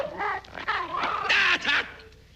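A radio comedy sketch's dog sound effect delivers a quick burst of close, snarling barks and growls, about two seconds long, before fading out.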